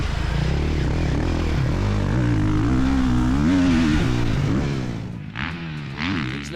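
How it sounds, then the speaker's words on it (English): A Ducati Desmo 450 four-stroke dirt bike rides past with its engine revving hard and pitch rising and falling through gear changes, loud and close before fading slightly at the end. "riding the Ducati Desmo 450 here, the most powerful 450 on the market at the moment"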